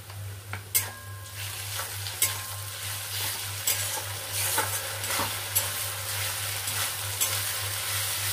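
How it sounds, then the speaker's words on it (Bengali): Ginger, garlic and green chilli paste fries with onions in a pan for a Bengali fish-head chachra, giving a steady close sizzle with regular spatula scrapes and taps as it is stirred. "আদা রসুনের কাঁচা গন্ধটা চলে যাওয়া পর্যন্ত আমি এটাকে নাড়বো"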